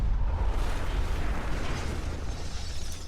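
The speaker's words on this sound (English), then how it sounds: "The centrifuge exploded, sending a massive shockwave through the building." A centrifuge explodes in a video game laboratory, releasing a massive shockwave: a loud, sustained, rumbling blast with heavy low-end roar and crackling debris noise that keeps going without a break.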